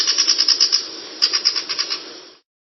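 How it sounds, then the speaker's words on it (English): A finch gives a quick burst of bright, rapid chirping notes, a short rhythmic series that pauses briefly and resumes before stopping, close and clear with nothing else audible. "Finch."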